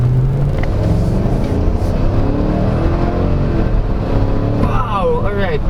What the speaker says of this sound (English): That's the only time I will floor this thing.